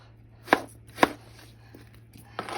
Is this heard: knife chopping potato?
yes